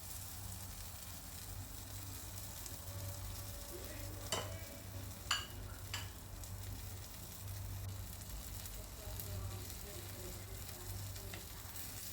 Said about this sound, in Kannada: ಈಗ ಇದನ್ನು ಈ ಮಸಾಲ ಜೊತೆ ಸ್ವಲ್ಪ ಒಂದು 10 ನಿಮಿಷ ಈ ರೀತಿಯೇ ಫ್ರೈ ಮಾಡಬೇಕು